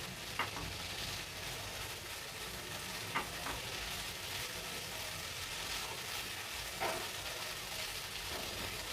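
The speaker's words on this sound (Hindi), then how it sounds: "इसको 1 मिनट के लिए हाई फ्लेम पर करेंगे जी फ्राई थोड़ा सा" Chicken pizza topping fries on a high flame in a pan, a steady broadband sizzle running throughout with a few sharp stir clicks from a utensil, close and unbroken, with no talk.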